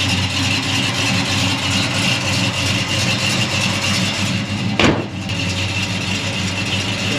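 A big-block 396 cubic inch V8 in a 1967 Chevrolet Chevelle convertible idles steadily and close by, a continuous low rumble with one brief sharp click partway through.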